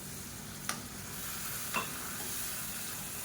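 Egg masala with ginger garlic paste sautéing in a pan, a steady close hiss of sizzling oil with two brief scrapes of a stirring spoon.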